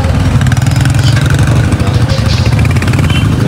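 A motorcycle engine runs steadily close by, a loud idling throb on a mountain road to Kedarnath blocked by a landslide, with no talk over it.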